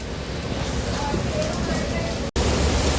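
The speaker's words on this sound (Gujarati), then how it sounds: "સુરતની અંદર ભાઈ ફૂલે ફૂલ વરસાદ છે" A dense, steady roar of heavy rain in Surat hisses without a break, with a brief dropout near the end.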